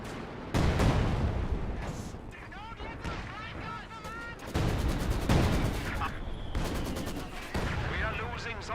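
Su-76 self-propelled gun barrage in the Company of Heroes 2 battle game, a dense run of loud overlapping gunfire and shell blasts with crackling bursts throughout, a commentator's voice talking over the battle.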